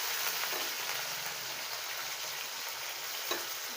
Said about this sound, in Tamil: இப்படி வதக்கி விட்டுருக்கேன்